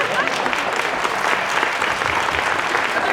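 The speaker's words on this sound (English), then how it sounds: "Let's have some applause." A high school musical audience claps steadily, a full, even patter of applause that continues without a break.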